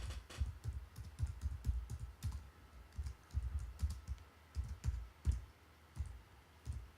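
Rapid, uneven clacking of keys on a computer keyboard, close and fairly quiet, with bursts of keystrokes and short pauses, while someone types into a text tool.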